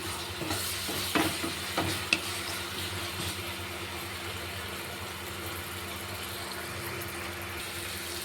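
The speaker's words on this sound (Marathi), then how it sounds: "लगेच कांदा घालायचा, टोमॅटो घालायचं आणि याला चांगलं परतू द्यायचं" Onion and tomato fry in a pan for a spicy, rustic matki (moth bean) curry. A steady close sizzle runs throughout, with a few louder stirring scrapes early on and no voices.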